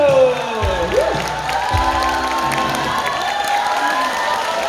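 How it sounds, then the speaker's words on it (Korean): Applause and cheering from an audience at a song-class singing contest as a guest singer is welcomed on stage, a steady crowd roar with whoops throughout and a voice calling over it. "박수"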